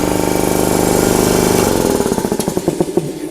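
A 7.5 horsepower industrial air compressor runs loudly with a steady mechanical drone, then shifts to a slower, pulsing chug toward the end.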